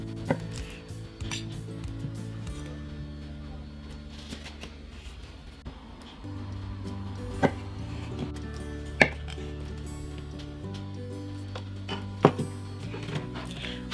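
A knife cuts cooked potatoes in half on a board while they are prepared for sautéing. The cuts come as a handful of sharp, close taps over a steady low background hum.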